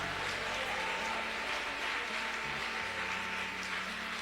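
A church congregation claps along during worship, a steady, dense wash of many hands filling the room with a constant, loud texture and a low hum underneath.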